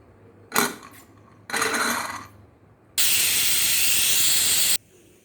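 A pressure cooker cooking mutton legs for sherwa lets off steam in two short hisses, then a loud, steady whistle-like blast of about two seconds that cuts off abruptly, close by.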